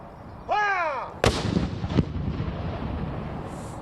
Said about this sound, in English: even the cannons are going to be going off